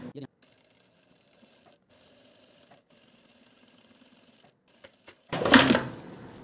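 A sewing machine stitching the hem of a palazzo pant runs in several short bursts of faint, rapid needle clatter with brief pauses between them, ending in a sudden loud clunk and rustle of handling.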